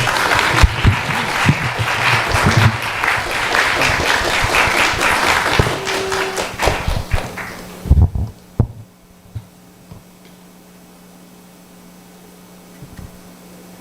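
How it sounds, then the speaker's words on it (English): Audience applauding after a Sunday feast class at a Hare Krishna gathering, loud dense clapping for about eight seconds that thins into scattered claps and then fades to near silence. "Big round of applause for His Grace Mukunda Datta Prabhu."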